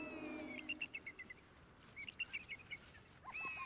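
Bird calls in the video game Baldur's Gate 3: faint, quick chirping bursts in a few clusters over a soft ambient background, with no speech.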